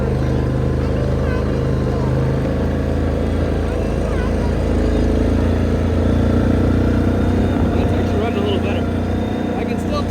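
A gas motorboat engine on a remote Alaska island runs continuously with a steady low drone and rattle, close by, while voices talk over it.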